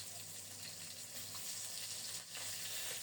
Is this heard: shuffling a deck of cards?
no